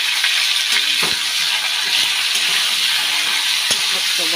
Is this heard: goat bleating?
no